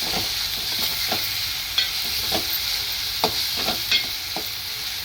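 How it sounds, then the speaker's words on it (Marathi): Ginger-garlic paste sautéing in hot oil, a steady sizzle with scattered spatula scrapes and stirring knocks, close and alone. "आत्ता टाकूया आपण अद्रक लसूणची पेस्ट ती चांगली आपण परतवून घेऊया"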